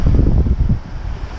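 Waves wash up on a South Australian beach, a steady low rush and churn of surf close by, loud and filling the whole stretch, with wind buffeting the microphone and no voices.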